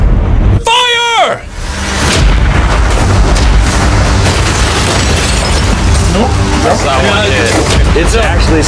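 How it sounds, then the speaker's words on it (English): Cannons fire with a loud, sharp boom that decays into a long rumbling roar, followed by sustained noisy commotion and talk in the background. "Prepare the cannons!"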